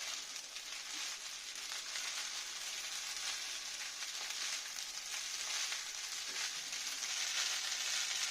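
Chicken pasta and beaten egg stirred together in a hot pan, a steady close sizzle with soft scraping throughout and no talking.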